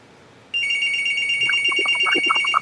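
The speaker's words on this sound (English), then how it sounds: "It was my house phone was ringing." A house phone rings loudly and close by, a steady electronic trill that starts abruptly after a brief quiet moment and continues without a break. No one talks over it.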